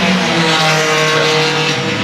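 Tony Wood's Tecnica-Meccanica Maserati Formula 1 race car at Silverstone, its engine roaring loud and steady with a sustained harmonic drone for the whole stretch, no voices over it.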